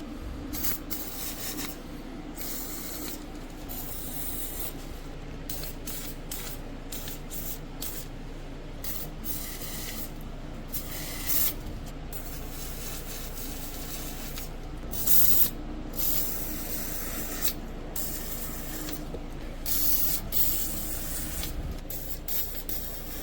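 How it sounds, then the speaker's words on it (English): Spray lube hissing onto the parts of an old Lawn Chief tractor's snow blower, in short repeated bursts close to the mic with brief pauses between them and no talking. "I'm going to go ahead and hit them all with some spray lube"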